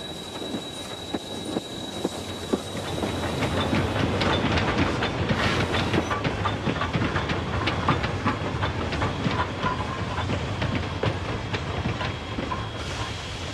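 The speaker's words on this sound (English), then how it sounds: "Coming out of the tunnel, we announce ourselves with a fanfare of steam." Steam train on the Zig Zag Railway emerging from a tunnel, a loud continuous rumble of wheels with rhythmic clatter and a sustained steam hiss and squeal, close and dense throughout, no voices.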